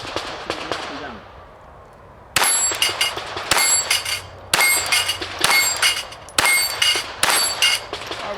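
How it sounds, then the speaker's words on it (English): A Glock 44 pistol firing Blazer .22 rounds at steel plates, with six sharp shots each followed by a bright metallic ring of the struck plate, evenly spaced and loud after a quiet start. "Still shooting the Blazers 22s out of the Glock 44"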